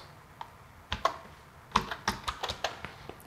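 Quick, uneven run of keystrokes on a computer keyboard, clicks clustered in short bursts with small pauses, close and fairly quiet, with no talking.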